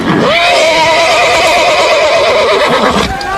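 A loud, close whinny from a cartoon horse about to rear, rising and wavering for about three seconds, with faint hoof clatter underneath.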